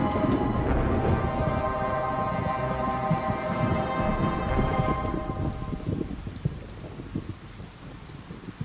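An artificial mini rain shower from tubing on an automatic timer patters densely over a fire ant habitat, loud and hissing at first, then thinning to scattered drops.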